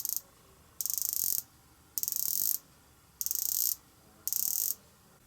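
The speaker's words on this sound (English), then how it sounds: "The unidirectional bezel graduated to 120 clicks." The unidirectional 120-click bezel of a Rolex Deepsea D-Blue 126660 is turned in four separate bursts of rapid, fine ratcheting clicks, each lasting about half a second, close and crisp against near silence.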